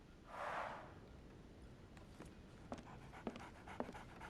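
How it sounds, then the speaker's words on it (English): A dog in Sherlock Holmes: The Awakened gives one brief, breathy panting burst near the start, followed by quiet scattered taps and ticks in a hushed indoor scene. "A doggy! So, Barnes has a dog now"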